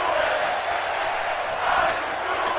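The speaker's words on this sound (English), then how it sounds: "It's Crowd chanting, how you doing?" Arena crowd at a WWE 2K17 wrestling event in Greensboro chanting "how you doing", a loud, continuous crowd roar with a rising swell near the end.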